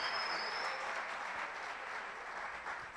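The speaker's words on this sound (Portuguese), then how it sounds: "Vamos dar salva de palmas a Jesus." A church congregation applauds during a Portuguese-language worship service, a thick, continuous roar of clapping that holds steady and fades slightly toward the end, with no voices on top.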